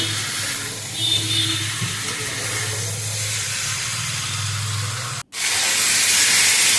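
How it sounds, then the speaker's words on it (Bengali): Hot water poured into a pan of simmering mutton stew, giving a steady loud hiss and steam rush that cuts briefly to silence, then resumes brighter and stronger. "গরম জল দিলাম।"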